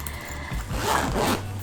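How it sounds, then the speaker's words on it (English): A zipper with a Mickey and Minnie pull is drawn along a large JuJuBe bag pouch, one close, steady raspy zip lasting about a second. "this big pouch has a Mickey and Minnie zipper pull"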